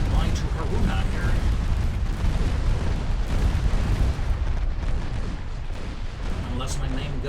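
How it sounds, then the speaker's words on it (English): Naval gunfire in Ultimate Admiral Dreadnoughts, French warships firing on the Japanese battleship Haruna: dense, continuous rumbling booms and blasts throughout, loud and layered, with some speech mixed in. "there comes the French gunfire"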